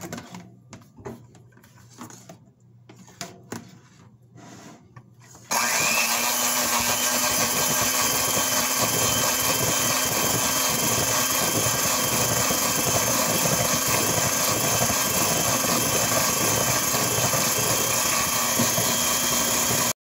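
An electric mixer beats rose-almond cookie dough, starting abruptly after a few quieter seconds and then running as a loud, steady, unbroken whir close by to the end.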